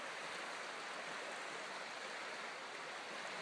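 Floodwater from Schlotz Creek rushes steadily beneath a bridge, a continuous loud broadband roar of moving water with no breaks and no voices.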